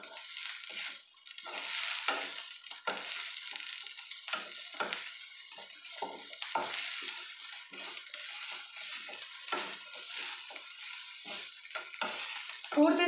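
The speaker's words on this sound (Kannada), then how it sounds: "ಪೂರ್ತಿ ಸಣ್ಣ ಉರಿ ಇಟ್ಕೊಂಡು ನಾನು ಇದನ್ನ ಮಿಕ್ಸ್ ಮಾಡ್ಕೊಳಕತ್ತೀನಿ." Chickpea-greens curry being stirred and fried in a pan over a low flame on a wood-fired stove, with repeated scraping spoon strokes and a soft sizzle in an irregular rhythm, close up with no talk.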